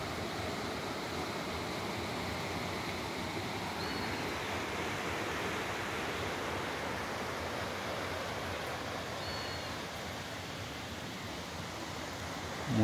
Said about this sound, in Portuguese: Abaixo da cachoeira, ó.